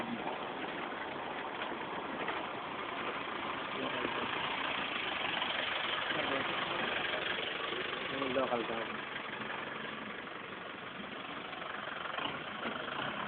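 Steady idling engine rumble runs throughout, with people talking over it nearby.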